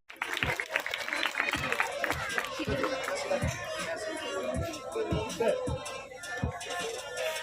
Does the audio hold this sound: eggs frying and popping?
no